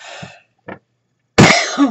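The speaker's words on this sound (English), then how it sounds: "Excuse me for coughing in your face like that." A few close, loud coughs: a raspy cough, a brief pause, a short cough, then a harsh throaty one.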